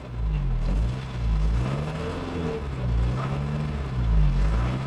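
A BMW engine revs up and down repeatedly, close and loud, with a faint high whistle running above the engine note.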